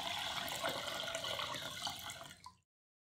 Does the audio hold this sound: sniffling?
no